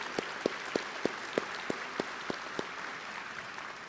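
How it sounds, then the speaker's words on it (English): Graduates and guests at a University of Louisiana Monroe spring 2021 College of Health Sciences commencement applaud the faculty, the clapping faint and thin with a handful of louder, evenly spaced claps standing out over a steady crowd hush. "So let's applaud our faculty."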